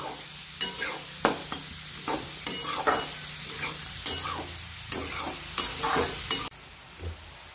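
Chopped onions sizzle and fry in a pan for eggplant bharit, with a steady hiss broken by repeated stirring scrapes at a regular pace, close and alone without talk.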